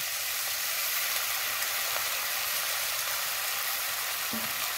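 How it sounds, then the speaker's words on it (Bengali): Malabar spinach leaves going into a pan of frying rohu fish curry, giving a steady, dense sizzling hiss that holds evenly throughout, close up with no voices. "এইবার পুঁই শাকের পাতাগুলো দিয়ে দেবো।"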